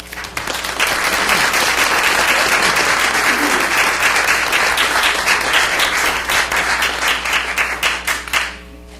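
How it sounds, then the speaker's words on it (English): A room full of people at a Vicksburg Warren School District board meeting gives sustained applause for a poster contest winner and her teacher from Vicksburg High School, dense clapping that holds for several seconds before thinning out and stopping. "We'd like to give them a nice round of applause."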